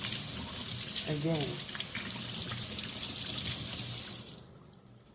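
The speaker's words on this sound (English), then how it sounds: "I just want to run some water on it" Kitchen tap water runs steadily over beet green stems in a sink, a close continuous splashing that carries on under a brief word of talk, then cuts off abruptly near the end.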